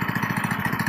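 A concrete power trowel engine idles at low speed with its CVT clutch slipping, giving a close, steady pulsing chug with a light mechanical clatter.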